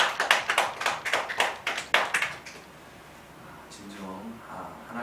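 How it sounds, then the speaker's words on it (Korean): A church congregation applauds after a Sunday service prayer, a brief burst of dense clapping that fades within a few seconds, followed by a quieter stretch where a voice begins to speak. "우리에게 은혜 주신 하나님께 영광의 박수 올려드리겠습니다."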